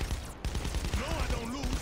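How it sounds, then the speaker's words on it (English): Rapid gunfire bursts crackle through a shootout in Saints Row the Third Remastered, sharp repeated shots mixed with game sounds and a voice that rises briefly in the middle. "There's a lot of gunfire here."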